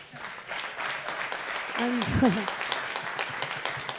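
An audience in a hall applauds and cheers a speaker, with scattered clapping and a brief whoop that stay moderate under a talking voice.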